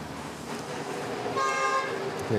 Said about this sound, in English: this is a Philippine Airlines going to Guangzhou.